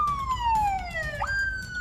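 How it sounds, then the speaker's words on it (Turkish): A police siren wails close by and loud, its tone sliding steadily downward before jumping back up to a higher pitch, heard alone without talk. "Polis sireni aç, sonuna kadar aç."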